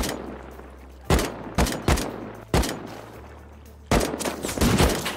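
Gunshots in Rust crack out in sharp, loud reports: a rapid cluster of three or four shots, a lone shot, then a quick burst near the end over faint background hum.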